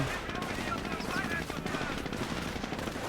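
Automatic weapon fire in the World War II strategy game Company of Heroes, dense continuous bursts of machine-gun and rifle shots layered over a busy battle bed, with brief commentary underneath.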